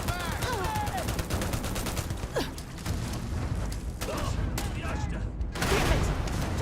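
Scattered gunfire from a firefight in the space game Starfield, with repeated shots and mechanical clatter mixed under voices and busy combat noise.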